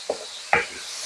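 Pork fried rice is stirred in a hot wok over a steady sizzle, with two or three quick scraping strokes of the utensil against the pan.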